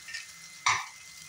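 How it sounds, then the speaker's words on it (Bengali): Onion, tomato and green chilli frying in a pan, with a faint low sizzle throughout and one sharp stirring scrape about midway. "পেঁয়াজ, টমেটো আর কাঁচা লঙ্কাটা খুব সুন্দর করে ফ্রাই করা হয়ে গেছে।"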